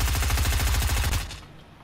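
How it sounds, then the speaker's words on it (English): Rapid automatic gunfire from an enemy in Fortnite, a fast even burst of loud cracks lasting about a second before cutting off into quiet. "Guy to the right is shooting me."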